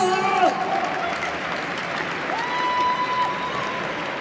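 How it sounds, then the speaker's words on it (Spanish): A crowd at a cosplay contest stage at Cometcon 2017 claps steadily in a dense wash of applause, with a brief whistle or cheer at the start and a sustained tone later. "Un aplauso, por favor, un aplausito."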